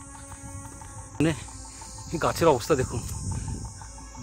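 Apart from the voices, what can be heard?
crickets chirping in mountain forest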